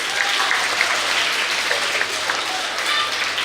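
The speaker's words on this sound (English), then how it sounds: "Yes, clap for Plascon," Schoolchildren at a primary school event clap together in a dense, steady burst of applause, fairly close, with faint voices mixed in.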